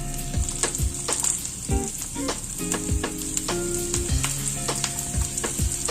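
Green chillies sautéing in a hot pan for ragi roti, a steady loud sizzle with repeated scraping and stirring clanks of a utensil against the pan, no talking.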